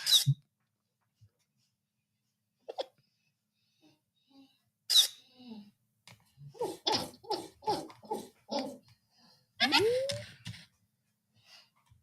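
A person imitates a dog during a live tech-deals stream. The imitation is a run of short, evenly spaced yipping barks, then a longer whining yelp, with quiet gaps and scattered clicks between.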